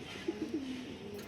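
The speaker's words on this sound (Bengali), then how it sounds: "এ হচ্ছে একটা কবুতর, মাদি কবুতর।" Soft, low cooing from a female pigeon, a few short murmured coos close by against a faint steady background.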